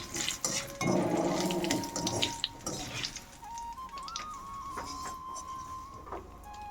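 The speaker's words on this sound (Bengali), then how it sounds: "এখন আমি জিরেটা ভেজে নিচ্ছি।" Black cumin and cumin seeds fry in hot oil with a busy, crackling sizzle, loud at first and then settling into a softer hiss with a faint thin whine running through it.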